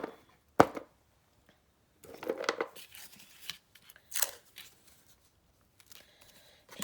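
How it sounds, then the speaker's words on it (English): A washi tape craft piece crackles and rustles as it is pulled apart: a sharp snap comes first, then bursts of papery crinkling and tearing at close range with no voice over them. "Just the way that crackled when I pulled it apart kind of told me I needed some glue."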